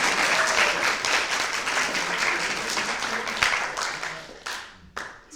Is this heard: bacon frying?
no